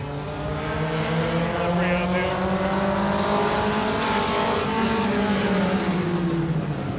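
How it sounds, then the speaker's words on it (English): Race cars roar steadily around the oval at Bryar Motorsports Park during a 1985 weekly racing night, their engines droning and shifting pitch as they pass. A voice can be heard over the engines. "We're on the oval tonight for Star Car Racing."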